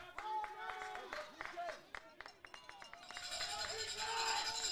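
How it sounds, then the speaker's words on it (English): Soccer crowd at a men's college match between W&L and VWU, cheering and clapping loudly with scattered sharp claps and rising roar, over continuous crowd babble throughout. "The fans in here starting to get a little rowdy"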